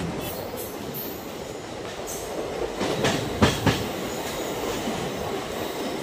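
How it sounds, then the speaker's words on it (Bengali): A local train in Assam rolls off a bridge onto solid ground, giving a steady loud rumble of wagons with rising clatter and brief wheel squeals in the middle, heard from on board with no voices. "ট্রেন বেরোচ্ছে, ইতিমধ্যে ইঞ্জিন বেরিয়ে পড়েছে মাটির দিশে।"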